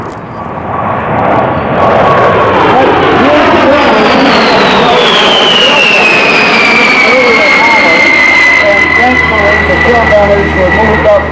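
Military jet aircraft flying in at the Oshkosh airshow in 2017, a loud, close roar that builds and holds, with a rising then falling whine as it sweeps past.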